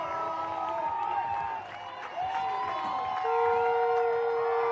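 Spectators at a Nighthawks versus Stags game cheer and clap as a steady crowd roar, dipping briefly before rising louder, with whistles and tonal squeals over it and faint commentary underneath.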